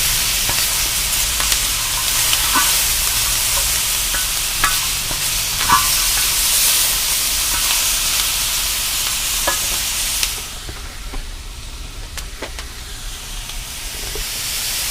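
Vegetables and beef sautéing on a FireDisc cooker give a loud, continuous frying sizzle with steady stirring clinks, and the hiss drops noticeably to a quieter simmer about two-thirds of the way through.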